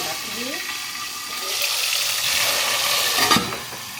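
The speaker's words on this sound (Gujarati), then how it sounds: "અને હવે આપણે નાખવાનું છે ટમાટર, ધીરે ધીરે થઈ બધા ટમાટર નાખી દઈએ" Tomatoes are added a few at a time to a frying pan and set off a close, steady sizzle that swells midway, with a sharper clatter near the end and a voice heard briefly early on.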